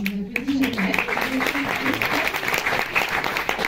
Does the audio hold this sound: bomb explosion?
no